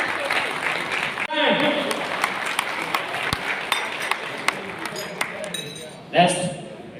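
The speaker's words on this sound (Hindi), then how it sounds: "एक बार जोरदार तालियां" Applause from an audience at a Microtek inverter launch at the JW Marriott Aerocity, New Delhi: scattered clapping with clinks and sharp taps, broken by a brief pause and a short burst near the end, with voices mixed in.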